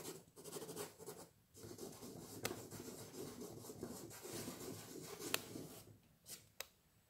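Dry pastel is blended on paper with soft, continuous rubbing and scratchy strokes, close and quiet, broken by a few sharp little ticks near the end.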